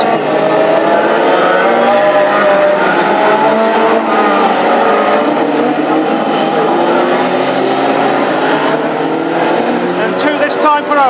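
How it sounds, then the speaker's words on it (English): Classic Hot Rod race cars roaring around a track at a final on a slippery surface, a loud continuous engine drone with cars passing, under a commentator's voice. "Taking off the edge to these race cars in this Classic Hot Rod English Open final in memory of Bill Morris"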